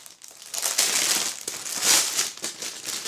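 Crinkling and crumpling of a plastic pouch being unwrapped from a December makeup subscription box, steady close rustling with denser bursts, no talk.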